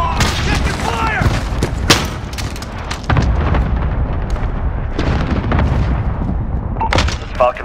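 A cluster strike in the video game Call of Duty Modern Warfare sets off a string of booming explosions and gunfire bursts during a team deathmatch, loud and close, with game voice lines and radio chatter over the blasts.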